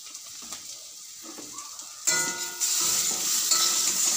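Ground spices, red chilli, turmeric and cumin powder with ginger paste, fry in a pan and get stirred while cooking a Bengali fish curry; a quiet scrape gives way halfway to a louder, brighter sizzle with stirring.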